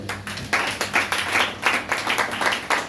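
A church congregation claps in a loud, fairly regular rhythm, the applause close and full, with faint voices mixed in.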